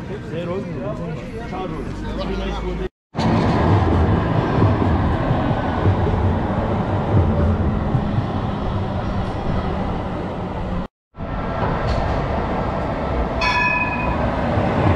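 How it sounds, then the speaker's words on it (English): A tram rolls along a busy Istanbul street, its rumble and rail noise loud and continuous beneath people talking nearby, with a couple of brief breaks in the sound. "Trams are quite regular here"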